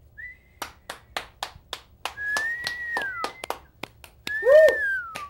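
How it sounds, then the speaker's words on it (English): A small studio audience claps sharply and irregularly at first, then breaks into several loud, sliding whistles and a rising whoop as the clapping thins, all close by and with no speech. "just cheering and whistling"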